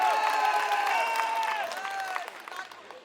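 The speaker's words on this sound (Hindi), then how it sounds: "आप अपने लिए भी जोरदार तालियां बजाइए।" Applause and cheering from a large crowd at an Aam Aadmi Party political rally in Rajendra Nagar, Delhi, sustained and dense, with voices mixed in, slowly easing toward the end.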